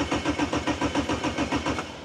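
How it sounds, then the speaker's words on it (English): A Formula Toyota FT30 race car's engine fires up and settles into a steady, pulsing mid-pitched beat, loud and close, with no choke. "To turn it on, you've got ignition,"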